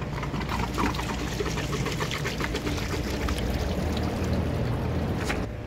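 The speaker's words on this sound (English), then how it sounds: "let's take this outside and dump the water" Water from an aquarium filtration system pours and splashes steadily outdoors as a heavy container is emptied, a continuous close gush with bubbling trickles throughout.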